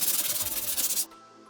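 Sandpaper rubs over a wooden furniture surface in quick, close, scratchy back-and-forth strokes for about a second, then stops abruptly, leaving low room tone.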